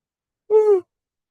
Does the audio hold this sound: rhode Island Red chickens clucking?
no